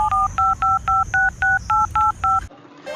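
A telephone being dialed with touch-tone keys: nine evenly spaced beeps in a brisk rhythm, close and clear, followed by a short quiet pause.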